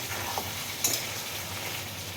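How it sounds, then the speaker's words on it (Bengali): Mutton masala made with stone-ground spices sizzles in a pan as water goes in, a soft continuous hiss with a brief clink or scrape near the middle, close by and fairly quiet. "এবারে জল দিয়ে দেবো"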